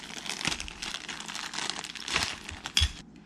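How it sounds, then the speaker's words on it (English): A plastic bag holding the plastic parts of a bionic robot kit is opened up close, with soft crinkling and rustling and a few small clicks of pieces shifting, ending in a sharper rattle. "Open up the plastic bag that contains the plastic parts."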